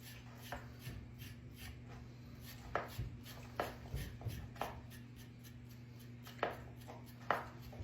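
Knife spine scraping the skin off a store-bought carrot, a quiet series of short, irregular rasping strokes over a steady low background hum, with no talking.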